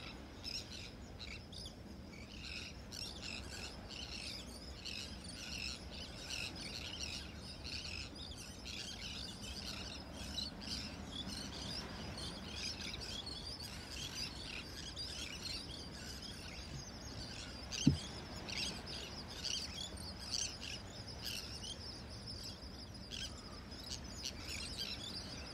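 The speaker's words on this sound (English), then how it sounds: "Listen to the birds." Faint bird chirps and calls scattered over a steady outdoor background hiss at a Gulf beach in North Naples, Florida, with one brief sharp knock partway through.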